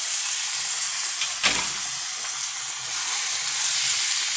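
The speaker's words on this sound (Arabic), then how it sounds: "خلاص معايا البصله دبلت اهي، هنزل عليها بالفراخ" Chicken pieces go into a pan of wilted onion and fry with a steady, bright sizzle and hiss. A sharp burst of spitting comes as they hit the hot oil, then the frying settles into a continuous crackle.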